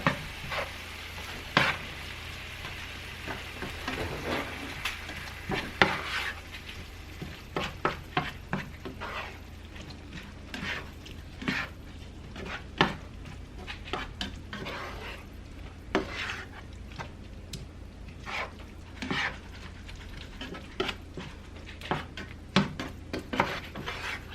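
A cooking mixture with basil and garlic sauce is stirred in a sizzling pan, with a steady fry hiss under repeated scraping and clinking of a utensil against the pan, close and fairly quiet, with no talking.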